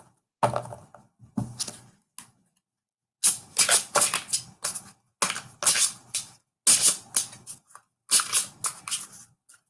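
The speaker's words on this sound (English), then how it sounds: "I'll just shuffle the cards while you have a think" A deck of tarot cards is shuffled in a series of short, crisp bursts of papery slapping and riffling, separated by brief silences, heard close up.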